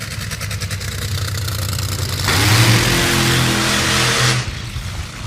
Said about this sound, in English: That's an old school burnout.